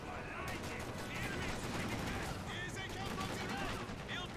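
Thompson submachine gun fire in a Company of Heroes 2 battle, rapid bursts crackling over a dense, continuous wash of gunfire and battlefield noise with no gaps.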